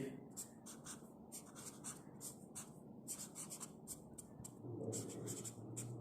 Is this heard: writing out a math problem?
yes